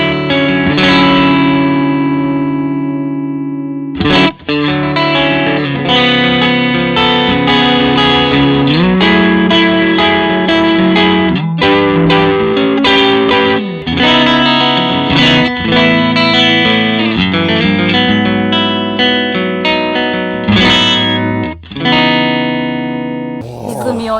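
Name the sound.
electric guitar through hand-wired overdrive effect pedal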